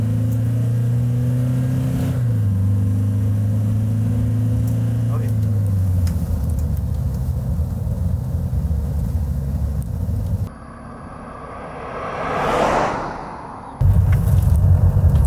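An SUV engine drones steadily with a rising pitch as it accelerates toward 80 on a test drive, interrupted by a brief whooshing swell before the engine noise returns.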